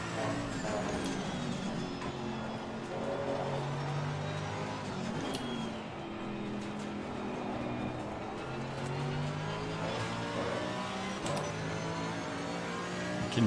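Porsche GT3 race car engine in the racing game Assetto Corsa Competizione at the Nürburgring, droning loudly and steadily throughout with rising and falling revs through gear changes, close and alone.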